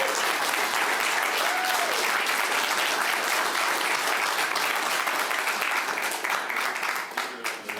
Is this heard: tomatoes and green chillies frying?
no